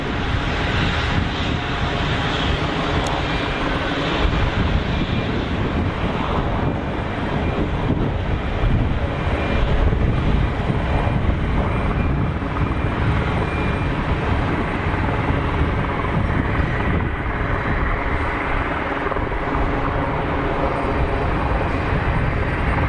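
A KLM Embraer E2 jet departs Geneva Airport, its engines producing a loud, sustained roar that holds throughout without voices.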